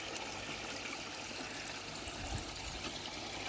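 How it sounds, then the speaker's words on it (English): Water from a koi pond return pours steadily into the pond, a continuous soft rushing trickle with no breaks, moderately close and alone outdoors. "Beautiful water return there"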